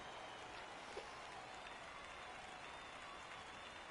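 Steady crowd roar and scattered applause from a large video game baseball stadium audience, continuous and fairly distant throughout.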